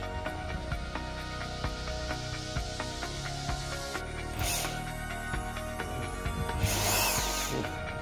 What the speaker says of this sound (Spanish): Como veis, he marcado aquí en la broca pues un poquito la marca para no pasarnos y no agujerear toda la goma